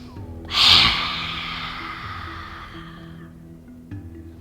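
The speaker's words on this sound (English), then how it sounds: "Okay, so that's lion's breath." A single sharp, forceful yoga lion's breath exhalation through the open mouth, a loud rushing burst that tails off slowly over a quiet background hum.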